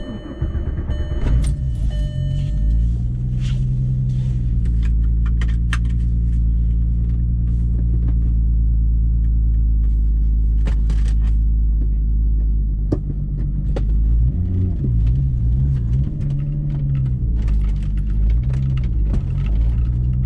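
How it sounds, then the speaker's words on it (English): A rebuilt VR6 turbo car engine catches with a starter whir, then idles in a deep, steady rumble close up, revving briefly near the end, with a few faint clicks and jingles over the top. "let's get the car started and let's get some driving going"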